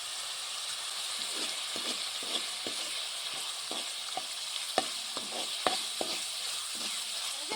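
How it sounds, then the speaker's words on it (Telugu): Paste fries in a pan with curry leaves and green chilies for a village-style mushroom masala curry, giving a steady hiss and sizzle broken by soft spatula taps and stirs, close but fairly quiet. "పేస్ట్ అనేది కొంచెం ఎర్రగా వచ్చినాక వేయించుకోవాలి కరివేపాకు కొద్దిగా వేస్తున్నా పచ్చిమిర్చి రెండు వేస్తున్నా"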